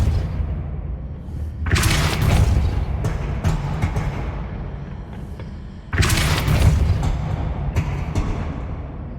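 A Repulso spell cast in Hogwarts Legacy, heard as two loud, booming bursts several seconds apart, each a broad whooshing blast that lingers briefly over a steady low rumble.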